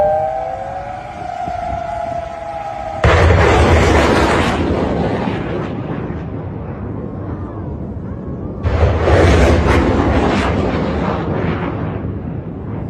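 An Iranian missile strike on a US base in Qatar: two loud, broad explosive blasts several seconds apart, each a sudden roar that rumbles and slowly decays, after a siren-like wail at the start.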